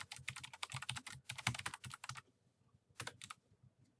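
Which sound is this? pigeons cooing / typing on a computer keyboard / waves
typing on a computer keyboard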